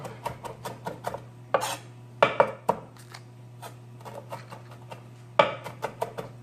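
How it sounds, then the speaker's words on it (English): A knife chops Thai basil on a cutting board in quick, uneven runs of crisp taps with short pauses between them, close and fairly quiet over a steady low hum. "I'm just going to chop it up nicely."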